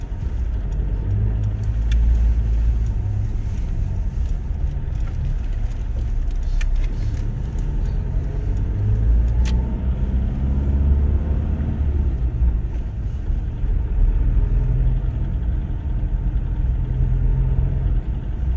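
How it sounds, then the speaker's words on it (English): Steady road convoy of vehicles carrying army personnel in Ukraine, heard from inside one vehicle as a continuous close engine rumble and tyre roar with slight rises in revving, no talk. "See all our vehicles right in front of us."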